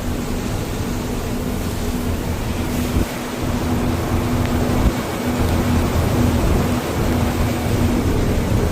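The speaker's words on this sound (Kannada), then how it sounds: "ಮಳೆ ಮಾತ್ರ ಭಾರಿ ಹೊಡಿತೈತೆ ಮಳೆ." Heavy rain pours steadily near a botanical garden park at Anagodu, a dense continuous roar, with low rumbles of thunder rolling beneath it and no voices.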